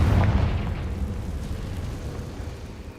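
A Confringo fire spell explodes in Hogwarts Legacy with a loud, deep boom that rumbles and slowly fades over a few seconds, with no voices.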